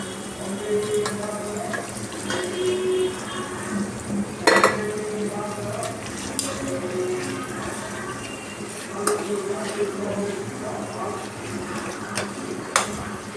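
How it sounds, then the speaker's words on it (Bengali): A pot of meat curry, a chicken kosha with yogurt, being stirred on the stove in a home kitchen, giving soft scraping and clinking spoon-on-metal sounds with light sizzle and faint background speech throughout. "এটাকে আমি একটু ভালো করে নাড়িয়ে নিচ্ছি।"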